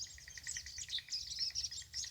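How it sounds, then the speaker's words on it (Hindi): Small birds chirping busily in the morning, with a woodpecker also calling in the background; a dense, continuous chorus of high tweets, moderately distant and fairly faint, with no talking. "एकदम छोटी सी चिड़ियाँ हैं, ये काफ़ी बोलती हैं"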